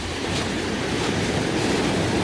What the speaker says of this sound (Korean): 해변의 파도가 아주 심합니다